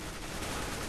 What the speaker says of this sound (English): I shot about 5 bullets and then I ran out of ammo